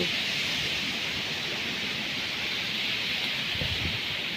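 Steady broadband roar of wind buffeting a microphone, constant and fairly loud throughout with no voices.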